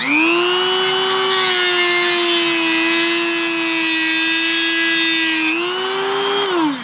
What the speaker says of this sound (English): a little zip cutter bit on a Dremel